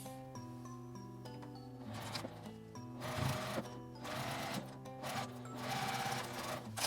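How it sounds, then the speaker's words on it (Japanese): Sewing machine stitching lining fabric onto a small zipperless phone shoulder bag, in bursts of rapid mechanical whirring and needle chatter with brief pauses between runs, close and fairly quiet, no voices. "裏布を重ねて縫います。"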